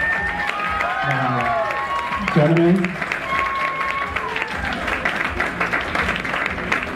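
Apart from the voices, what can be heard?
audience applause for pageant contestants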